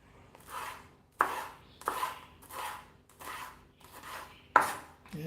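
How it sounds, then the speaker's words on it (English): Knife dicing ripe sweet peppers on a cutting board, heard as about seven distinct, evenly spaced chopping strokes, close and moderately loud, with no talking. "3 colors there of ripe sweet pepper. 3 nice colors. I want to get them diced into small pieces"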